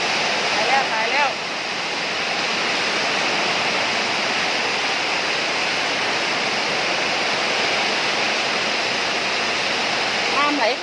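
A storm in a rural garden in northeastern Thailand, with strong wind driving rushing water into a house, makes a loud, steady roar that fills the whole stretch.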